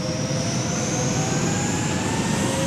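Steady, loud roar of an airliner's jet engines during a go-around in Microsoft Flight Simulator 2020 at Los Angeles International Airport, a constant broadband rush with a faint rising whine, unbroken and with no voices.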